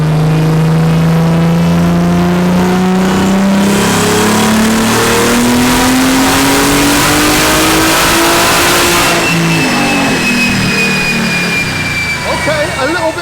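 Tuned BMW engine on a dyno revs steadily upward toward about 6,000 RPM, a loud rising drone over roughly ten seconds before easing off, with a voice talking over it.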